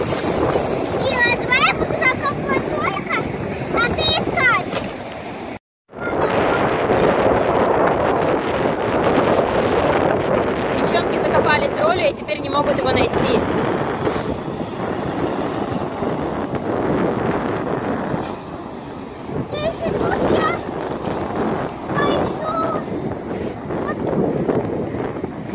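Strong wind roars and buffets the microphone near the sea, with voices talking under the gusts and a brief drop-out partway through.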